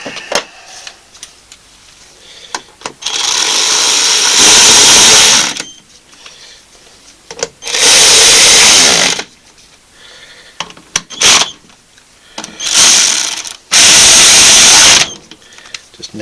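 A power tool, likely an electric impact driver, tightens bolts on a VW T5 van gear reduction during an EV conversion, whirring in several loud, close bursts of a second or two, separated by quieter clicks and handling noise.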